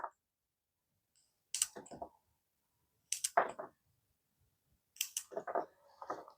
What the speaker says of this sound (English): I want to cut some of the same vine with similar size leaves.